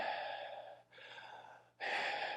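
A preacher demonstrates breathing with three slow, audible breaths, airy exhales close to the microphone with brief pauses between them, the last one sharper and louder.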